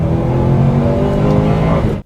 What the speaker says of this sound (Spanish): Cuando llevas el motor alto de vueltas, este coche se siente rápido de una manera muy emocionante.